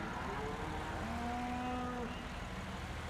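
Cattle in a farming simulator game give a drawn-out, low moo lasting over a second, heard against a steady background hum with no talking.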